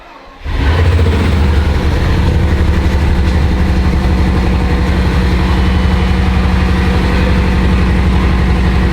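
A 2006 Bugatti Veyron engine cranks and catches, then runs steadily with a deep, continuous idle and a slight irregular stumble from a small misfire, loud and close with no talking.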